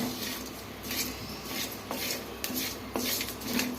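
Karimeen fish being washed by hand in a metal pot, with water swishing and repeated light clinks and scrapes against the pot in an uneven rhythm, close up and without talk.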